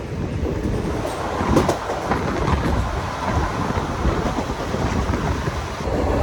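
The Simhadri Express rumbles along between Powerpet and Nuzvid at around 100 to 110 km/h, a steady, dense onboard roar of wheels and carriages with faint rhythmic rail clatter throughout, no voices.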